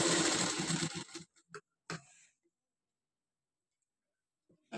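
A sewing machine stitches fabric in a single short, loud burst of about a second, then stops, leaving a few soft clicks and near silence.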